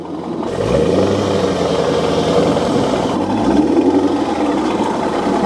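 A Corvette C5 engine idles with a deep, uneven burble close by, its pitch rising and dipping slightly as it runs.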